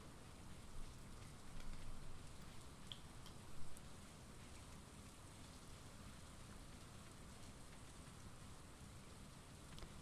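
Steady rain falls in a video game, a dense even hiss that stays constant throughout, with a couple of slightly louder moments early on and no voices.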